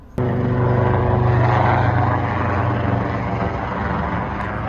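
A loud, continuous rotor-and-engine roar from an Apache gunship helicopter passing overhead near a worksite during army target practice, starting abruptly and then holding steady at close range with a slow fade.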